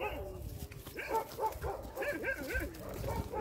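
A Belgian Malinois on a farm gives repeated short yips and whimpering barks, fairly close, mixed with background voices and noise.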